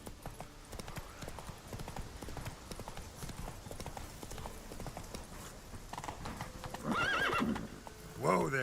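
Hooves of the horse Roach clip-clop steadily in The Witcher 3, a quick even rhythm under game ambience, ending with a loud neigh and whinny near the end.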